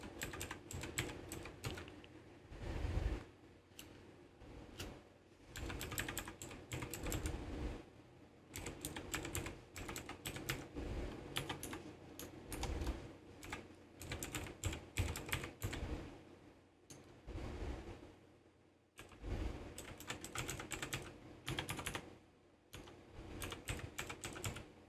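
Fingers type steadily on a computer keyboard for about twenty-five seconds while entering a name and email on a TeamViewer sign-up form. The keystrokes come in close, busy runs broken by short pauses.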